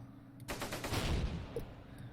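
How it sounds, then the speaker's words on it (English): Gunfire in the World War II strategy game Close Combat, a sudden rattling machine-gun burst of rapid shots that cuts in, holds for about a second and fades, heard alone. "I think that's enough firing going there"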